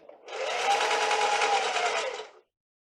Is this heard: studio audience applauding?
no